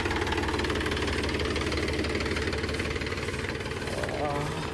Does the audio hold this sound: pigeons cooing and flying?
no